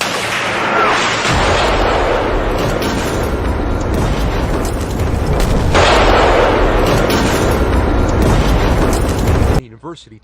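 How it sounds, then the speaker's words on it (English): Russian missile strikes hitting mostly civilian targets across Ukraine during an all-day barrage: a loud, continuous roaring rumble with two heavier surges, cutting off abruptly near the end. "An all-day barrage of Russian missiles striking mostly civilian targets throughout the country"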